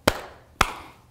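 Two sharp, isolated claps about half a second apart during a group sing-along of the Bingo song, each crisp and fairly close with a short fade, no voices over them.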